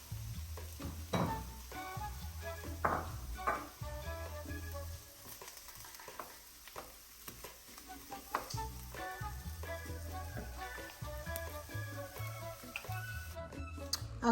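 Onion and peppers sizzle steadily in a pan, with occasional stirring scrapes and clinks over a continuous close frying hiss that carries through the whole stretch.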